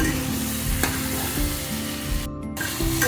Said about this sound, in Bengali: এবার সব একসাথে আমি ভালো করে কষিয়ে নেব ঝিঙে আলু সমস্ত মশলা একসাথে কষিয়ে নেব